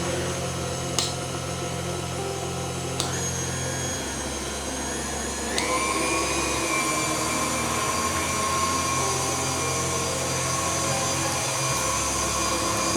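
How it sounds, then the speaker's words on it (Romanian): A stand mixer with a dough hook kneads savarin dough, starting at low speed and moving toward medium: a steady motor whir and rumble whose pitch steps up partway through, with faint clicks and no talking. "Am pregătit robotul cu cârligul special pentru frământat. Și vom lăsa aluatul să se frământe cam vreo 7 minute."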